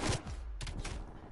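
Pistol fire in Call of Duty Cold War sounds as a quick cluster of sharp gunshot cracks, with two bursts close together in a short, busy moment of play.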